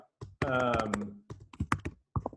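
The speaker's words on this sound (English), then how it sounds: "No, I was typing something in the chat." Computer keyboard typing during an online meeting, a run of close, quick clicks and taps, with a voice briefly audible between bursts.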